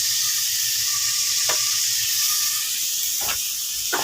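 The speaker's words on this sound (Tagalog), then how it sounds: "Tapos mag-gisa tayo ng sibuyas," Onion, garlic and tomato sizzle in a pan for sarciadong isda, a steady frying hiss with a few brief stirring scrapes, close and alone.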